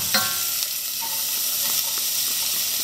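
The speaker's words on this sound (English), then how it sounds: "I'm gonna put garlic and a bit of onion." Garlic and a little onion sizzle steadily in a hot pan for a chilli sauce, a close, continuous hiss with faint stirring clicks and no talking.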